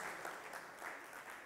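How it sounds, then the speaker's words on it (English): An audience at an HR and hiring trends event claps hands, a steady dense patter of applause filling the room at moderate volume, with no voices over it. "Let's clap hands."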